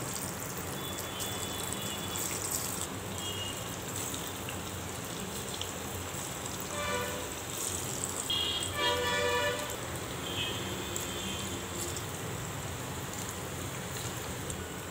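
Pieces of meat fry in moderately hot oil, giving a steady hissing, bubbling sizzle that runs throughout and swells slightly midway, with no talking.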